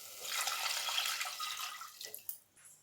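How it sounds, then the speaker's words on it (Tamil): Water poured into idli kurma in a cooking pot, a steady splashing rush that fades and ends with a few trickles and drips, close up with no talk. "இப்போ இந்த ஸ்டேஜில் நம்ம தண்ணி சேர்த்துடலாம்."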